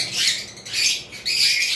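Young lovebirds moving restlessly in a cage on a bird farm give three short bursts of harsh squawking and chattering, separated by brief gaps, close by and fairly loud.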